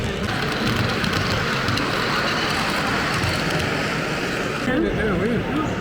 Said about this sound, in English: Hey up, we've got a train.